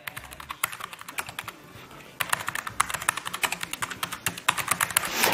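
Rapid typing on a Logitech G915 TKL wireless mechanical keyboard with GL Tactile switches, a dense stream of crisp close clicks that grows busier and louder toward the end, with no talking.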